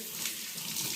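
Filtered reverse-osmosis drinking water running from a kitchen tap, a brief steady hiss of flowing water, close and moderately quiet with no voices.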